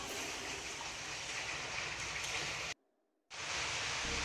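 Vinegar poured into a dates pickle makes a steady, close hissing splash of liquid that runs alone for a few seconds, then stops briefly and starts again.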